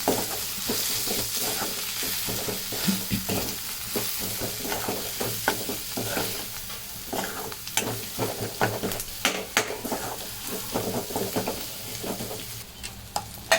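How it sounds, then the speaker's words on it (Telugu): Spices stir-frying in a pan with garam masala for egg podi, a continuous sizzle broken by repeated scraping strokes of the spoon, fairly close and loud, with no voices. "ఇవన్నీ వేసి ఇలా కలబెట్టుకోవాలి ఫ్రెండ్స్. 5 నిమిషాలుగా ఇలా ఫ్రై చేసుకోవాలి"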